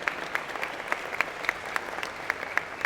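Convocation audience claps for scholarship students at an engineering and computer science ceremony, a sustained round of applause from a large crowd with scattered louder individual claps popping out of the even wash.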